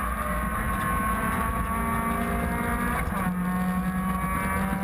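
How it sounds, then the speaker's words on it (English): A Suzuki Swift race car roars along at close range with steady engine drone, a thin high-pitched squeal from Achilles tyres running through turn 1 over the broadband rumble. "You can hear the sound of tortured Achilles tyres."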